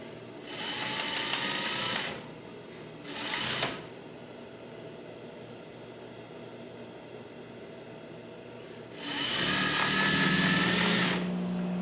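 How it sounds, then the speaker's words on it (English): A sewing machine stitches a half-inch side seam joining the front and back of a pair of jeans, running in three loud mechanical bursts separated by quiet pauses. "you're going to sew a 1/2 inch seam"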